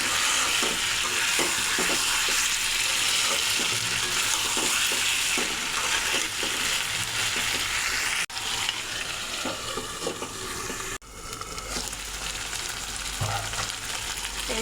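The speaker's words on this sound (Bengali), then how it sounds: "এবার ভেজে রাখা আলু দিয়ে দেব। আলুটা দিয়ে আরেকটু কষিয়ে নেব।" Chicken curry meat and fried potatoes being stir-fried in a pan, a steady loud sizzle with scraping stirring strokes throughout, no voices.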